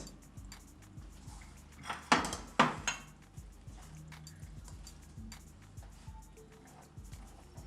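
A metal cooking pot is handled and set down in a home kitchen, giving two loud clattering knocks close by, with lighter clinks and kitchen bustle before and after.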